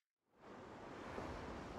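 Ocean surf from the Tales of Vesperia game rises out of silence into a steady, soft, broadband wash of waves, faint and continuous with no voices.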